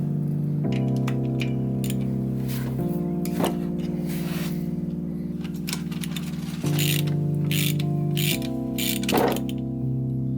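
A ratchet loosens bolts on the pump housing of a 1977 Chevrolet Caprice, giving repeated rapid clicking bursts with pauses between, close and clear over a steady mechanical hum.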